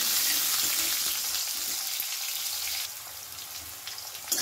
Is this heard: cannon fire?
no